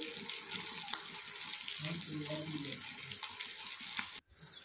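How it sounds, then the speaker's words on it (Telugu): Tomato pieces frying in a pan for Andhra-style eggplant curry while being stirred, giving a steady hissing sizzle with a voice talking over it before it briefly cuts out near the end. "ఈ విధంగా టమాటా ముక్కలు వేగిన దాకా తిప్పుకుంటూ ఉండాలండి"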